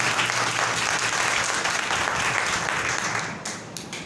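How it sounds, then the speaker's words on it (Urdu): A congregation at a church service gives loud, sustained applause in praise of God, a dense wash of many hands clapping together that tapers off near the end. "زوردار تالیاں خدا کے جلال کے لیے بجائیں"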